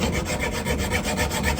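Sanding a wooden edge produces a continuous close abrasive rasp with a quick, even back-and-forth rhythm, and no talking.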